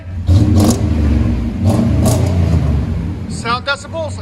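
GMC Sierra 1500 pickup with a V8 and Magnaflow dual exhaust, revved twice in quick, throaty bursts over a low idle rumble, with a voice talking briefly near the end.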